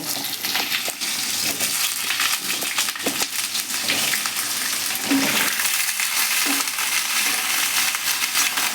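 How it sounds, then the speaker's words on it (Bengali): Potato and papaya pieces sauté together in a hot pan seasoned with cumin, sending up a continuous close sizzle and frying crackle, with occasional scraping and stirring knocks from a utensil. "এবার আমি এই আলু পেঁপে একসাথে করে ভালো করে কষিয়ে নেব।"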